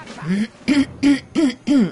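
A person clearing their throat during a World of Warcraft Goblin starting-zone session, a close, loud series of five rough vocal bursts, one longer then four short, with no words.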